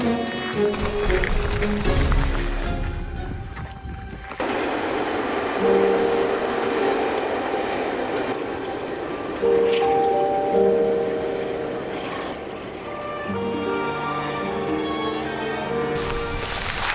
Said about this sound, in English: it was awesome being able to see a train go by